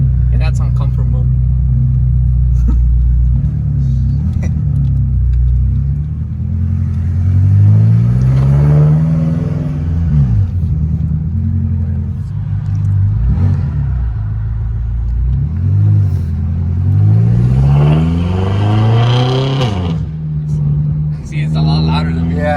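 Tuned FBO BMW M6 engine pulling hard, loud rumbling revs rising and falling in repeated sweeps from inside the car, with voices talking over it.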